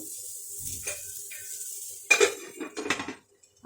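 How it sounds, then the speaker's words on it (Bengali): A lid clatters onto a frying pan holding paneer in a little oil, with a few sharp metallic clanks and rattles close by and a soft sizzle underneath. "একটু আমি এটা ঢাকা দিয়ে দিয়েই ভাজবো"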